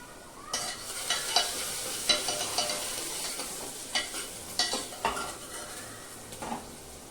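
Onions fry in a home kitchen pan, a soft sizzle under repeated scraping and clinking of a spoon stirring against the metal, several sharp taps spaced through it; nobody talks.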